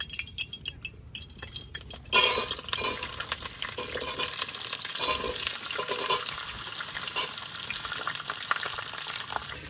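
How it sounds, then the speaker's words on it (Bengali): Cut vegetables (cauliflower, sweet potato, potato and carrot) hit hot mustard oil in a village kitchen, bursting into a loud, steady sizzle after a quiet start, with stirring and occasional pan clinks throughout. "সর্ষের তেল, এবার সবজি দিয়ে দেবো তেলের মধ্যে।"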